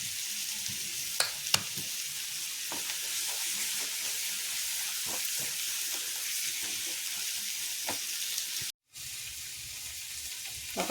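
Soy sauce poured into a pan of chicken curry for fried rice sets off a loud, continuous hiss and sizzle with faint stirring clicks, broken by a brief silent gap near the end before the frying resumes.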